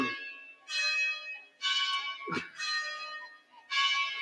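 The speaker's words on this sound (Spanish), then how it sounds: "que suenen las campanas antes de seguir" Church bells ring in Cartagena de Indias, four separate bright, resonant peals at an unhurried pace, heard from a distance against a quiet background.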